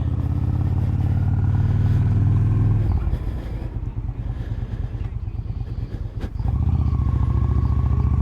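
A motorcycle ridden on a night ride, its engine a loud close rumble that drops to an uneven idle-like putter midway and then swells back up as the rider accelerates.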